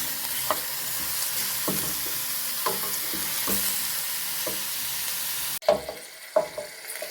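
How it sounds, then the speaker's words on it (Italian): Meat and lard frying in a pan over a gas flame, a continuous loud sizzle broken by rhythmic scraping stirs, with the hiss cutting back sharply near the end as stirring continues. "Il rumore della carne e del lardo che friggono probabilmente ha sovrastato la mia voce"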